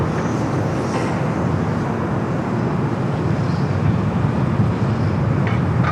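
Steady broadband roar of a Cathay Pacific Boeing 777-300ER at LAX, heard as a continuous, even engine and airport rumble with no distinct events, fairly loud and alone.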